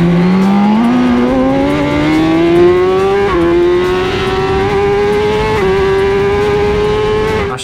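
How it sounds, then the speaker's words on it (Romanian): A race car engine at full throttle, heard loud and close from on board: a continuous rising howl that climbs in pitch, drops briefly at two upshifts, then keeps pulling, with no talking. "Așa că am deschis gazul și eram hotărât să trag tare."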